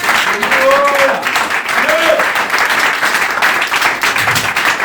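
A church congregation applauds the Lord with sustained, dense clapping, mixed with cheering voices and exclamations over the top.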